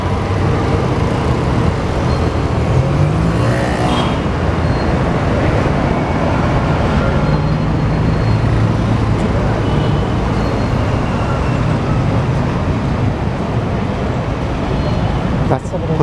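Street traffic at the Pulchowk crossing in Kathmandu, a dense continuous roar of passing vehicles and engine rumble, with a brief rising horn or motor whine early on and a voice talking over it.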